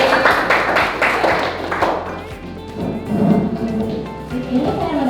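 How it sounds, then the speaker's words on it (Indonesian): A class of students claps briefly during an Indonesian civics lesson, with a short burst of loud, irregular hand claps and thumps that quickly trails off into a quieter room with muffled voices. "Oke, tepuk tangan lagi."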